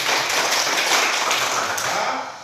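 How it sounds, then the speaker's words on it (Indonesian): Schoolchildren in a classroom clap together, a continuous, fairly loud wash of many hands slapping with a loose rhythm that tapers off at the end. "Ya, tepuk tangan."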